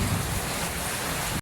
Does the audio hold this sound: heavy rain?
yes